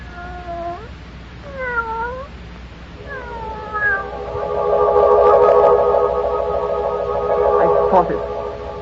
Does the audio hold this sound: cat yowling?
yes